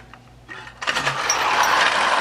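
Marx clockwork wind-up toy locomotive with plastic wheels starts running on track, a whirring buzz that rises from quiet and swells into a steady, close mechanical rattle.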